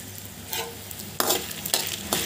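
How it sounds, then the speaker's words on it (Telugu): Dried red chillies fry in a pan over medium heat, giving a steady low sizzle broken by a few louder scraping bursts as they are stirred, with no voices. "మీడియం మంటలో పెట్టి ఈ మిరపకాయల్ని వేయించుకోండి"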